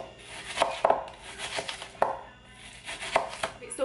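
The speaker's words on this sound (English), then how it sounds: "chop it up really fine slices" A knife chops an onion into thin slices on a board for tinga, crisp irregular cutting taps with short pauses between strokes, close and fairly loud, no speech.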